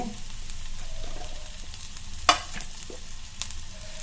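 Coriander roasts in a hot pan for a ridge gourd chutney, a close steady sizzle with scattered stirring scrapes and one sharp clink partway through, with no voices.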